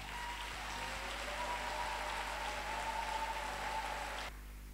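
Steady, dense applause from a church assembly at a priest's silver jubilee Mass in Sinfra, a continuous even wash of clapping that cuts off abruptly near the end, with no speech.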